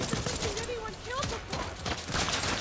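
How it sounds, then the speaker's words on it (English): Rapid gunfire from the first-person shooter video game Deathloop, dense bursts of shots and mechanical clatter filling the mix, with game voices and effects mixed in. "as you can see, the game is mostly about first-person shooting"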